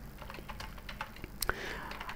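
Someone types on a computer keyboard with quick light key taps at a steady pace, close but soft, over a low room hum with no talking.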